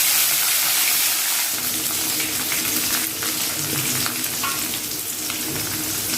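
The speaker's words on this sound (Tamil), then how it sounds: "கொஞ்சமாக ஆயில் சேர்த்துக்கலாம். கடுகு உளுந்து சேர்த்துக்கலாம். கருவேப்பிலை சேர்த்துக்கலாங்க. வெங்காயம் சேர்த்துக்கலாம்." Mustard seeds, urad dal, curry leaves and onion fry in a little oil for sambar, a continuous close sizzle with crackles and occasional stirring scrapes throughout.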